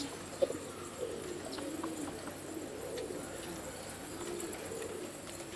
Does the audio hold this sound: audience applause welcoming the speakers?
no